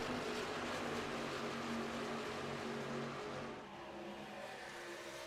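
Race trucks roar around the Michigan oval in a Venom Truck Series event, a dense, steady engine drone from close-running trucks that eases slightly toward the end, with no talk.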